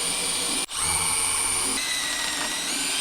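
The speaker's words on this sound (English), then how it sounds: "I'll pre-drill the holes just so it makes it easier and it doesn't split the" A power drill pre-drills holes into wooden wall studs during a wall-hung toilet carrier installation. It gives a loud, continuous high whine with one brief dip early on, then keeps running steadily with no speech.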